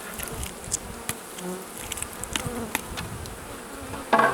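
Honeybees buzz in a steady, close swarm hum with occasional sharper passes, swelling into a louder burst right at the end, at a hive while new queens are introduced.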